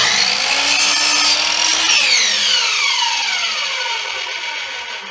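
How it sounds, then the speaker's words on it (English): A power saw cuts through wood while building a scarf joint jig, a loud steady whine under load that drops in pitch and fades as the blade spins down after the cut, close by with no talking. "everything's out of the way of the saw that way. So I'm going to cut this off right about there."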